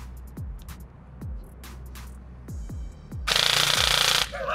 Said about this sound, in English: I'm just gonna do one more mag dump here in the full auto.